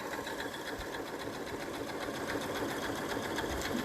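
A Janome RE3300 sewing machine runs steadily, its needle stitching in a fast, even mechanical patter at close range with no talking.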